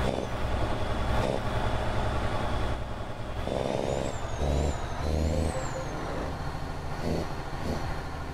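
A Volvo truck in a driving video game drones with a steady, loud engine rumble, while rising and falling air-brake whines and hisses cut in midway, with no voices.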